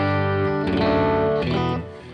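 Electric guitar chords ringing out through reverb and delay effects, loud and sustained with shimmering repeats, two strums blooming then fading into a washy tail.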